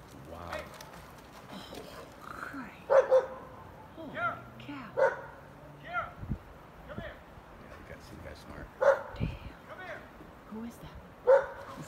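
A dog near a brown bear, with an Alaskan husky named as the dog, barks in repeated sharp bursts at mid distance, mixed with yips and whimpers. Excited voices talk over the barking throughout.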